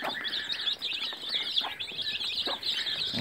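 Broody hen with her chicks, rapid chirping and peeping from many chicks mixed with soft clucks, fairly close and continuous, no talking.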